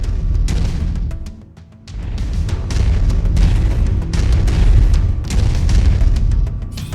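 Long-range missiles launching and exploding in the MechWarrior 5 Mercenaries video game, a dense run of loud booms and bursts with a steady rumbling roar that dips briefly before resuming.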